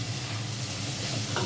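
Fish frying in a pan while being stirred, a soft steady sizzle with faint scraping movements near the end, quiet and close, with no talk.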